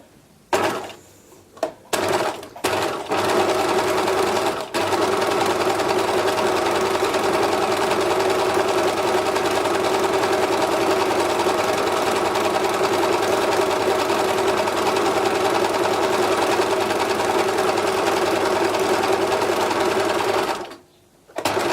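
A sewing machine stitches along the edge of a fabric beach bag: a few quick stops and starts first, then one long, loud, steady run of the needle that cuts off abruptly near the end.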